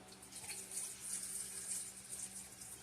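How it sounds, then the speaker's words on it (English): Water runs and splashes softly as soaked potatoes are drained, a faint steady pouring wash with no voices. "Now I'm going to come in with my potatoes, which I'm going to drain since I had them sitting in water"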